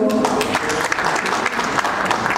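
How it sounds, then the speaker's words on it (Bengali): A crowd at a film trailer launch event for Lokkhikantapur Local claps loudly for the press and journalists, a dense, steady burst of many hands close by with no speech on top. "তাদের জন্য একটা জোরে হাততালি হোক"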